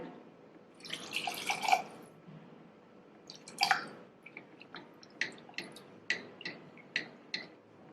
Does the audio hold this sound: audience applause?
no